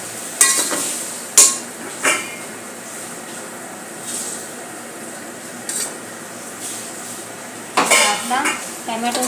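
Tomatoes cooking down in a pan with salt and mint leaves over a low flame, a soft background sizzle broken by several sharp scrapes and clinks of a spoon stirring against the pan.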